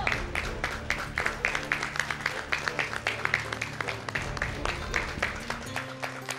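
Applause from a studio audience at a televised singing competition as a nominee is called forward, dense steady clapping filling the whole stretch with a few louder claps standing out.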